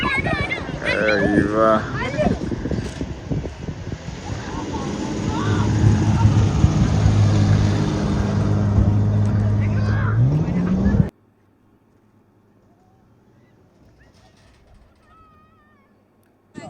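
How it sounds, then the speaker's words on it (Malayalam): A desert safari vehicle comes past at high speed, its engine note rising loud and close over wind and crowd noise before cutting off abruptly, leaving near-silence with a faint background hum. "സഫാരി കഴിഞ്ഞ് വരുന്ന വണ്ടിയാണ് കേട്ടോ. അത്യാവശ്യം നല്ല സ്പീഡിലാണ് വണ്ടി വരുന്നത്."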